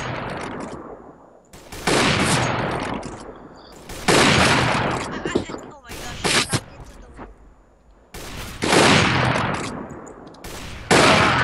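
Video game gunfire in a multiplayer shooter match: loud bursts of rapid automatic fire come in several separate blasts, broken by short quiet gaps, with no talk.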